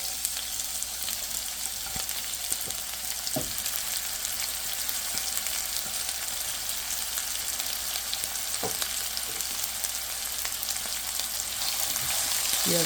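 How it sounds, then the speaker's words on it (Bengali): Onions fry in oil with marinated meat in a long, steady sizzle, close and even, broken by a few sharp clicks of stirring, with no voices. "এখন পেঁয়াজটা দিয়ে দেবো।"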